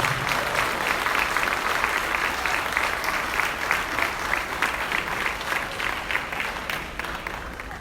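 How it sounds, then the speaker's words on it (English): A crowd at a hall of fame banquet claps steadily and loudly the whole time, a dense, sustained round of applause with no pauses. "Give him a round of applause."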